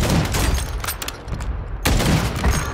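Rapid bursts of gunfire in Call of Duty, loud and close, in dense volleys with a brief lull before another heavy burst near the end.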